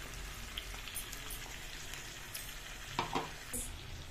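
Ground masala frying in a pan for a Jharkhand-style desi chicken curry, a quiet, continuous sizzle with occasional light stirring clinks and scrapes.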